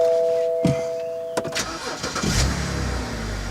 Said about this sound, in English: let's get the car fired up